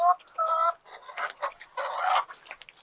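Agitated chickens in a coop cluck and squawk close by in a loud, uneven string of calls with short pauses between them.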